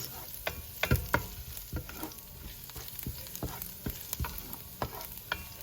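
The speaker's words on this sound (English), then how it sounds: "I've now added in my minced garlic. I'm gonna let that cook for about a minute." Minced garlic sizzles in hot oil in a pot for chicken caldo soup, a steady crackling hiss broken by repeated scraping taps of stirring, close and fairly quiet, with no voices.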